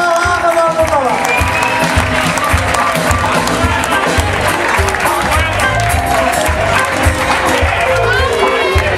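Loud concert crowd at a band's 15th-anniversary show claps and cheers continuously while music and amplified voices carry on underneath, the audience noise dense and sustained for about nine seconds.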